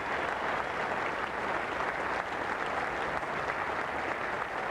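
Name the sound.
cricket crowd applause around the ground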